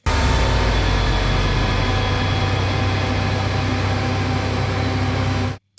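A finished song, the opening track of an album, plays as a loud, dense, unbroken wall of full-band sound that stops abruptly near the end.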